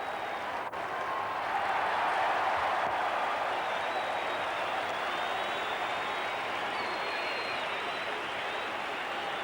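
A stadium crowd at a 1998 one-day international cricket match with green and gold flags waving claps and cheers after a boundary shot. The applause is a steady, far-off wash of noise that holds at an even level throughout.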